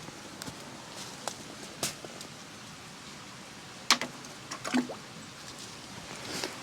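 A pebble drops down a pipe in a shaft and lands in water, giving a few faint knocks and then a single soft plop heard alone against a quiet, hissy background.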